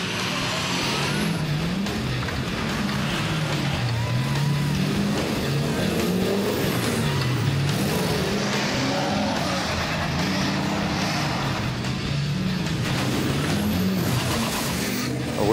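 A big GMC 6-litre diesel truck races at a four-wheel-drive event, giving a continuous, loud, dense roar of engine and driving noise that holds steady throughout.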